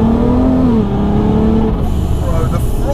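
A 500 bhp supercharged VW Golf R32 on throttle, its engine note rising and falling in pitch from inside the car, a loud steady drone with a voice faintly underneath.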